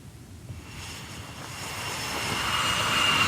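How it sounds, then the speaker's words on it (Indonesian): A US Navy Super Hornet fighter jet launches from the aircraft carrier USS Abraham Lincoln, its broad engine roar swelling steadily louder over a few seconds, with no voices. "Jet tempur Super Hornet Angkatan Laut Amerika Serikat lepas landas dari kapal induk USS Abraham Lincoln"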